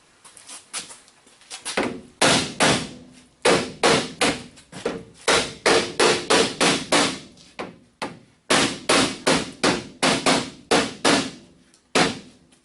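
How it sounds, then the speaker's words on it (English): Repeated dull thumps from a rubber mallet striking a rear step bumper on a 2002 Chevy 2500HD, in quick rhythmic bursts separated by short pauses, loud and close. "rubber hammer and see if that helps a little bit"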